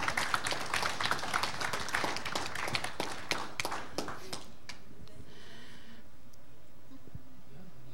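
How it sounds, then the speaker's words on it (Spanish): At an Indigenous Mesoamerican pre-congress meeting, a small group claps for a few seconds, a scattered, moderately close round of applause that thins out and fades into quiet room tone. "un aplauso pues por"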